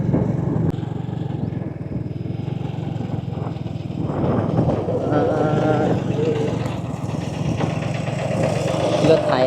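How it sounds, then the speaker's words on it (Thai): A farm tractor engine chugs along a village road in Laos, a steady low idling rumble heard close by under intermittent talk. "รถไถไปหน้าเนาะ"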